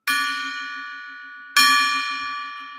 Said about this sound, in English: Three rings of the golden gong.